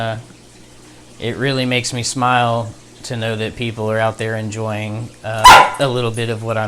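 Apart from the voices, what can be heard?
dog barking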